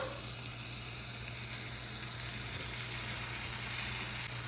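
Vegetables cooking in a pan for a Mexican-inspired dinner make a constant, even sizzle with a hissing, rain-like texture, steady and unbroken at moderate loudness, heard alone without talk.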